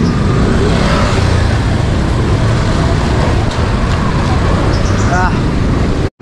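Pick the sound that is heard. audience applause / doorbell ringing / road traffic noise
road traffic noise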